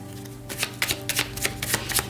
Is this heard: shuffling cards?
yes